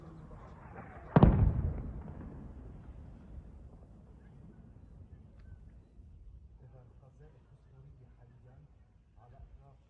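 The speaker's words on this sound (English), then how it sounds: "it clearly is artillery fire" One heavy artillery boom in Ukraine war footage, a single sharp blast near the start that fades into a long, low rumble and wind noise, with a voice talking faintly afterward.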